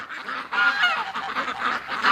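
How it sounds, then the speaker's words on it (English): A flock of geese at a winter duck farm honk loudly and continuously, a dense overlapping chorus of harsh calls that stays close and unbroken throughout. "The geese lose it and wake me up."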